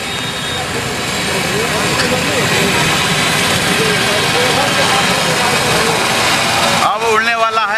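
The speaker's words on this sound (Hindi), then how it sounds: "आदित्यनाथ योगी जी के अब हेलीकॉप्टर कुछ ही समय में उड़ने वाला है।" Loud, steady helicopter engine roar, Yogi Adityanath's helicopter idling before takeoff in the Shahpur area. The broad rumble fills nearly eight seconds, and a voice briefly rises over it at the end.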